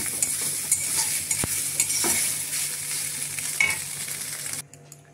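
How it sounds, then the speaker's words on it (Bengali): Soybean chunks fry in a pan of oil with a loud, close, steady sizzle, broken by occasional stirring scrapes and clinks, before dropping away at the end. "সোয়াবিন ভাজা হচ্ছে"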